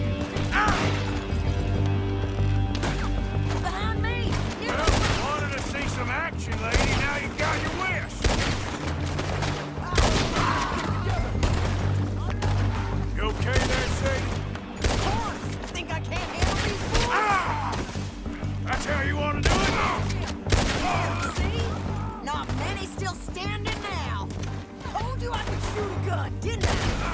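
A loud, sustained shootout in the Red Dead Redemption II game, with dense bursts of gunfire, crashes and impacts packed tightly under a constant music and effects bed, with voices mixed in throughout.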